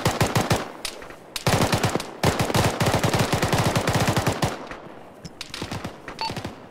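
Sustained automatic gunfire in Arma rattles in long rapid bursts, loud and close, with brief gaps between strings of shots and no voices.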